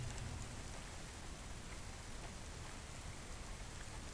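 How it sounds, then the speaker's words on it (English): Rain falls steadily in the city of the video game CloudPunk, a soft, even patter on surfaces that stays constant and fairly quiet throughout, with no talk. "Don't let all the rain get you down."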